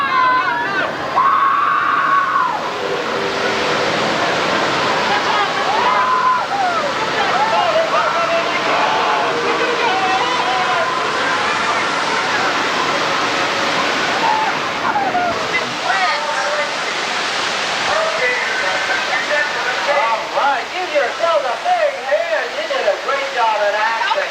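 A water flood effect on the 1989 Disney-MGM Studios tour pours as a continuous, loud roar of rushing water, with crowd chatter and voices talking over it throughout.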